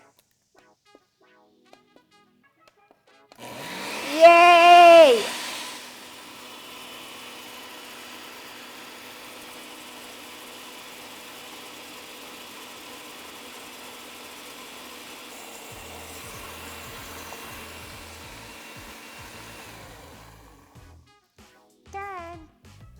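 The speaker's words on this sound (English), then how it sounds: "Now this part's scaring me because now will the blender work?" A kitchen blender whirs steadily for a long stretch after a brief louder burst as butter is poured in, then stops; a voice cheers briefly near the end.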